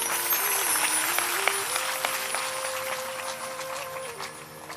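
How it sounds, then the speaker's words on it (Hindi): An audience claps together through a Hindi religious discourse, dense sustained applause that gradually thins toward the end while a steady tonal hum runs underneath. "आपकी ताली में दम नहीं है।"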